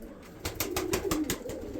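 Pigeons cooing in a pigeon loft, a close, repeated throaty coo rolling along with a few soft rustles and taps in the background.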